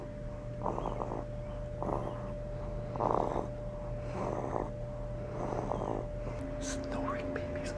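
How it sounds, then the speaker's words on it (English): A sleeping baby snores in slow, regular breaths, each soft rasp spaced about a second apart over a steady hum, with a brief squeak near the end. "Snoring babies are the best."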